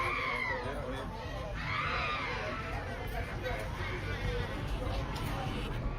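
Desperate screaming rises from a neighbor's apartment through a dense layer of crowd chatter and street noise, with several high anguished cries standing out against steady background babble.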